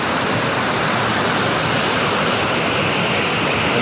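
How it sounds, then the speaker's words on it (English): Mountain waterfall pouring through a narrow rock chute on a 20-acre property, a loud, steady broadband roar of rushing water filling the whole clip with no talking. "You see the water running down here."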